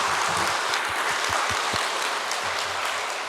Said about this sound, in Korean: 오늘 아침 우리 부활하신 예수님께 찬양과 영광의 박수 올려드립시다